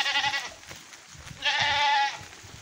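A goat on a farm in the garrigue hills bleats twice, close and clear, with two drawn-out wavering cries separated by a pause and faint background noise underneath.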